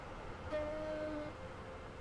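A train at Stepford Central station in the Roblox game SCR, a five-coach service, gives a short steady horn tone over low rumbling station ambience, fairly faint and with no talk.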